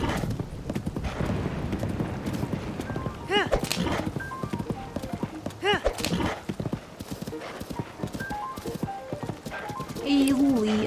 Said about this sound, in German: Ach nee, das ist ein Pferd.